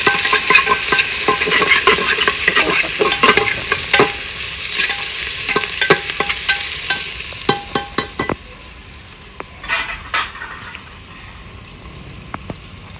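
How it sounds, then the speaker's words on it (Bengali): Chopped onions frying in a pan for a chicken curry, a loud close sizzle with quick, repeated spatula scrapes and clinks that thin out as the hiss fades toward the end. "কেটে রাখা পেঁয়াজ ভালো করে ভেজে নেবো"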